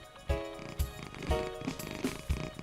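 Domestic cat purring close to the microphone, a soft rhythmic rumble pulsing about twice per second, quiet and alone.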